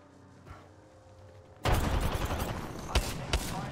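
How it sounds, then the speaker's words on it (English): Gunfire in a video game firefight, a sudden loud burst of rapid shots that turns into a sustained rattling barrage with a couple of sharper cracks, following a quieter stretch with faint game noise. "I am taking fire, friends."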